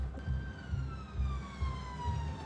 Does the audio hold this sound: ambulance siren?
yes